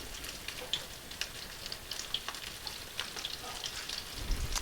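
A steady crackling sizzle of chicken katsu frying in hot oil, dense popping spatters throughout, no voices.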